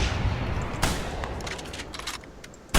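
Rifle shots ring out during a hunt in theHunter: Primal, with a loud crack at the start, another sharp report midway and a final one at the end, separated by a noisy outdoor ambience.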